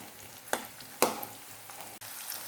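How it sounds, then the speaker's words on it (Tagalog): Garlic and onion sizzle and fry in a pan, with two sharp stirring scrapes and a lighter clink over a steady crackle; no one speaks. "Pagkatapos igisa ang bawang at sibuyas, ilagay na po natin ang patatas."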